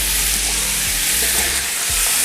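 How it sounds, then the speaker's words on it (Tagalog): Pork belly sizzling loudly in a pan as its fat renders out for Bicol Express, a steady dense frying hiss with a few soft stirring scrapes, no talking. "So, i-render lang natin yung oil niya dito sa ating kawali or sa pan natin."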